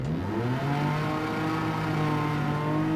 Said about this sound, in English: That engine still sounds pretty good.